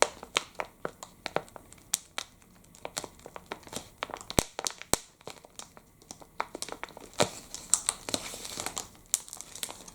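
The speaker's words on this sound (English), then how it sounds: "when you sort of just touch this golden wrapping, it sort of makes this nice ASMR sounds" Golden chocolate wrapper foil crinkles close to the mic in sharp, irregular bursts of crackling, with brief quiet gaps between handlings and no talk.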